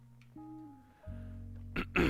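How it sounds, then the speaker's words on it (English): A person clears their throat during a gaming stream, a short rough burst near the end after a stretch of low hum and tonal background, close and fairly loud. "So I'm clearing my throat like every 3 seconds."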